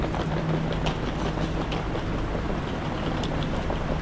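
A regular intercity train running from Kuala Lumpur to Penang makes a continuous loud rumble from inside the carriage, with a low steady drone and faint rhythmic clacks from the track.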